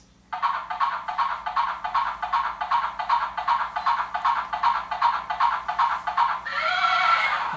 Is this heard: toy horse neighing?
yes